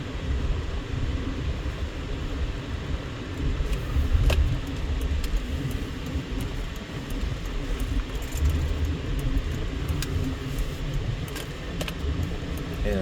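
Cars and other traffic drive along a Las Vegas street, a steady rumble of engines and passing vehicles heard from inside a vehicle, with a few sharp clicks and rattles over the continuous road noise.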